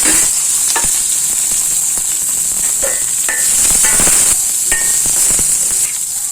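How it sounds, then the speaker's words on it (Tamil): Mustard seeds and fenugreek spluttering in hot oil: loud continuous sizzling with scattered sharp pops and crackles close by, without voices. "கடுகும் வெந்தயமும் போட்டாச்சு பொரிஞ்சிட்ருக்கு"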